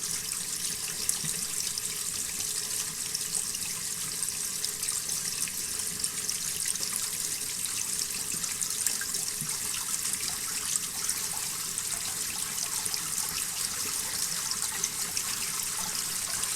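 An aquarium flow emitter pump runs at full 100% capacity in a 265-gallon tank, giving a steady, rushing, splashy water noise that stays constant throughout.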